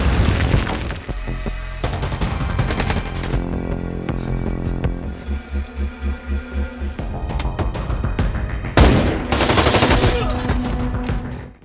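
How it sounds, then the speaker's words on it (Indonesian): Rifle gunfire in a film shootout at a house, with loud booming shots and rapid bursts of fire throughout, a rhythmic run of repeated shots midway and a heavy blast near the end. "Dari dalam rumah, istrinya mencoba untuk melawan dengan menembaki tentara itu dengan senapan yang disimpan Bob Lee."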